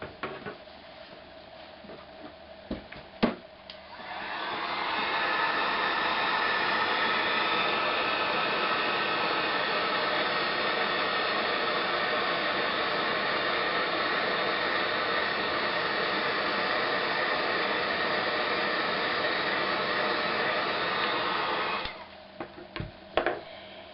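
A heat gun blows steadily for about seventeen seconds, embossing silver powder onto craft paper pieces for a princess carriage mini album. It runs as a loud, even roar and stops abruptly, with a few small clicks before and after.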